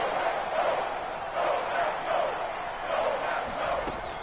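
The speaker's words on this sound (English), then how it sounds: "this crowd's going to get even louder" Stadium crowd noise in the Madden 22 football video game, a steady roaring wash that swells in waves as fans are urged on near the goal line, with a game commentator's voice faintly under the din.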